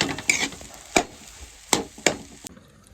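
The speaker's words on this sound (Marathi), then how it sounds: "मिक्स करून घेऊ चांगला आता." A spoon stirring egg curry and rice in a frying pan, giving about six sharp metallic clinks and scrapes at uneven intervals over a faint background hiss.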